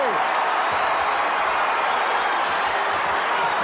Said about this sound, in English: you can hear the Chicago contingent applauding the efforts of the Bulls